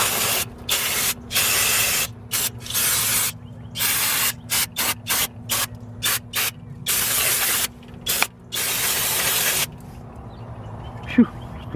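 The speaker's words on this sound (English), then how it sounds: "brake clean." Brake cleaner is sprayed from an aerosol can in loud, close bursts of harsh hiss, some short and some longer, with a steady hum underneath and a brief clink at the end.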